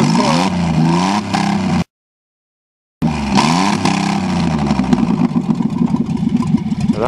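A Ford Taurus wagon running with no exhaust manifold revs loudly and raw, its pitch climbing and falling in surges, cut by a brief silent gap before the rough engine roars on.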